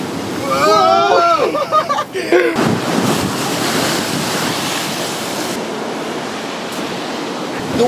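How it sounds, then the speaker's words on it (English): Big ocean waves crashing at coastal blowholes, a loud roaring surge with wind buffeting the microphone, preceded by a brief excited voice near the start. "The waves are very big."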